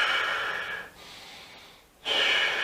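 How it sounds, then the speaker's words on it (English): A person seated with shoulders hunched forward takes a deep, airy breath in, followed by a pause and a second strong hissing inhale, close to the mic. "you try and take a deep breath in"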